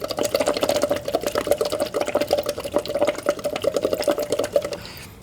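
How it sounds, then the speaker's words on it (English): Bubbles blown through a straw into liquid during a vocal warm-up: a steady, rapid burbling with a sustained hummed tone underneath, continuous and close for about five seconds before stopping abruptly. "step one is just blow bubbles into the liquid."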